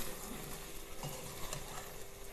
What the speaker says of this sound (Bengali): কি সুন্দর মাংসটা কষানো হচ্ছে, বেশ লাল লাল তেল ছেড়ে দিয়েছে।